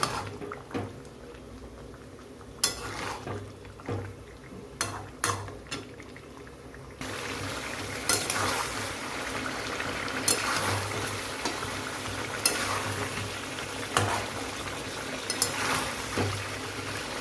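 Boiled chicken stir-fried in a pot for chicken biryani, bubbling and watery frying with repeated knocks and scrapes of a spoon, growing into a louder, denser sizzle halfway through.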